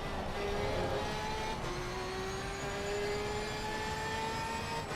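A GT3 race car in Assetto Corsa Competizione revs high, its engine note climbing steadily in pitch, heard fairly quietly and alone.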